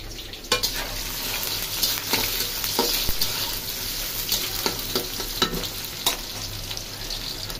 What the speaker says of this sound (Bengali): তেলটা গরম হয়ে গেছে। এখন পেঁয়াজটা ছেড়ে দিই।